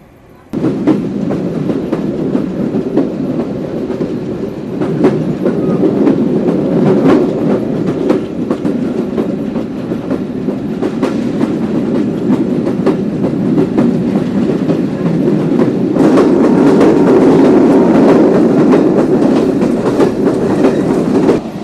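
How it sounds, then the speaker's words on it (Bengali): A passenger train running between Khulna and Jessore rumbles steadily throughout, a dense continuous roar of wheels and carriages heard from inside, with no talk over it. "আমাদের ট্রেন এখন থ্রু পাস যাচ্ছে রূপদিয়া রেলওয়ে স্টেশন"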